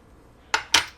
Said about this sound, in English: Just going to stir that in with the pasta.